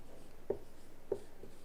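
A pen writing a short sentence by hand on paper, a faint scratching with two soft taps, heard quietly and alone.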